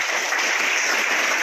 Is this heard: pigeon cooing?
no